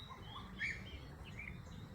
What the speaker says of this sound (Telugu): చూడండి పక్షులు ఎలా బర్డ్స్ కిలకిల రాగాలి వినబడుతున్నాయా మీకు?